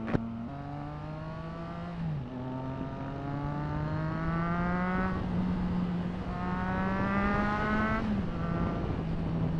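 Triumph Trident 660 motorcycle ridden through the gears, its engine rising in pitch with each pull then dropping at shifts, a loud, close, steady whine over wind noise, without voices.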